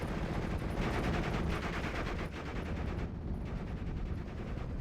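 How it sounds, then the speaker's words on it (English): Artillery barrage from the Panzer Warfare doctrine in Company of Heroes, pinning rifle squads and air landings: a dense, loud, continuous roll of blasts and crackling gunfire with no clear gaps, alone without voices. "Now the Panzer Warfare Barrage will pin down these rifles and air landings."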